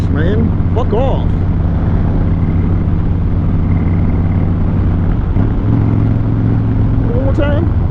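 A 2008 Harley-Davidson motorcycle engine runs loud and steady in a lower gear at high RPM, a dense continuous drone with a brief shift in pitch midway, while a voice speaks over it at the start and end.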